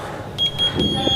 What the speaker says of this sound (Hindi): बजर आप सुन पा रहे होंगे